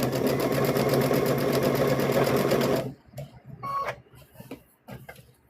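A sewing machine runs steadily and loudly for about three seconds while stitching the fabric for a stuffed bear, then stops, leaving quieter handling noises and faint clicks.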